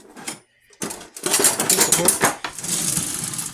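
Spoon clinking and scraping around a bowl while mixing coffeecake filling, rapid metallic taps in close bursts with a short pause early on.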